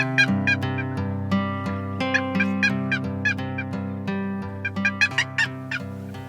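Wild turkeys gobble repeatedly during a turkey hunt, rapid rattling bursts in quick succession over a steady sustained tonal drone, fairly loud and with no talking.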